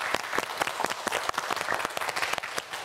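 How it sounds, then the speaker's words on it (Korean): Studio audience applause on a televised quiz show, many hands clapping in quick irregular bursts, loud and close for about three seconds. "박수 한번 부탁드립니다."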